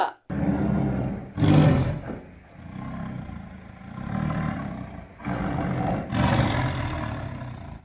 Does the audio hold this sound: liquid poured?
no